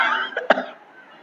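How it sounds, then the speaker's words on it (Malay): A single close, sharp cough bursts out over a faint hum in a mosque setting, followed by a quick softer catch before fading. "Batuk leh."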